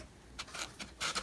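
A few quiet plastic slides and scrapes as a Guess Who game lock slides into its frame, short rubbing bursts spaced irregularly, close and faint.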